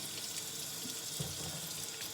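A kitchen tap runs steadily for handwashing, an even close hiss of flowing water into a sink with small splashy changes as hands move under it.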